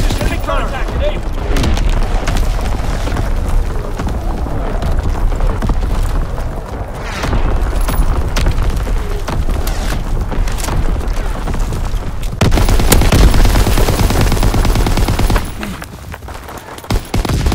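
Artillery barrage in a Call of Duty: WWII domination match: continuous rumbling booms and heavy gunfire, with a louder burst of close explosions near the end, under intermittent radio-style voice callouts.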